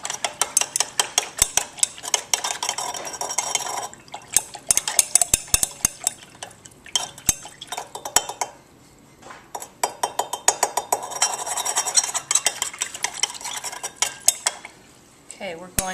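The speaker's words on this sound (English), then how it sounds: "We have to stir it to make sure all the salt dissolves." A utensil stirs salt into water in a glass beaker, producing rapid repeated clinking and scraping against the glass, close and fairly loud, with a brief lull midway.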